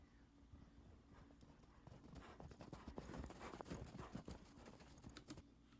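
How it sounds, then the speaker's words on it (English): A horse canters past through snow, its hoofbeats thudding in a quick, uneven rhythm that swells as it draws nearest and then eases off, with soft crunching on each fall. "There's a horse cantering past in the snow"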